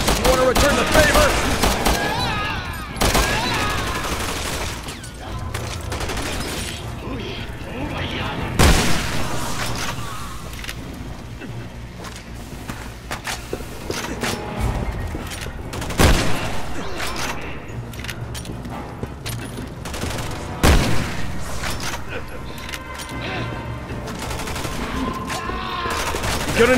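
Heavy gunfire in Resident Evil 6: repeated bursts of shots and booming impacts crack out loudly and irregularly throughout, with brief voices now and then amid the firefight.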